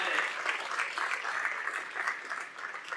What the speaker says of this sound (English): that's definitely worth some applause